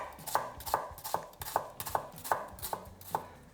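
A knife chops rapidly on a chopping board, about eight sharp, evenly spaced strikes in a steady rhythm, close and clear, with no voices.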